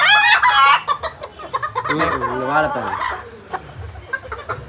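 Chickens on a Jaffna poultry farm cluck and call close by, with a crow-like cry at the start, while someone talks over them throughout.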